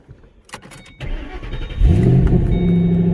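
A Ford Shelby GT500 with an H-pipe exhaust turns over after a few clicks and fires up, the engine catching with a loud deep burst and settling into a strong, close, rumbling idle.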